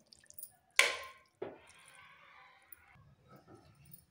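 Hot water is poured into a pot of moong dal khichdi and stirred: a sudden splash, then a short, faint pour, followed by quiet wet mixing sounds.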